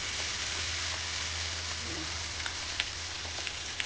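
Banana fritter batter sizzles and fries steadily in hot oil in a wok, a dense continuous crackle with a few sharper pops near the end, close and with no voices.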